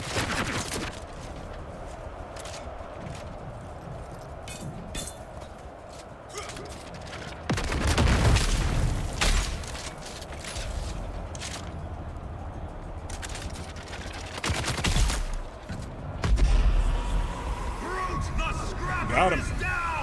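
Gunfire in the video game Dune Awakening, with bursts of shots and louder booms recurring through a steady din of combat noise, most intense in the second half.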